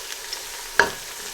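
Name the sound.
whole spices frying in a pan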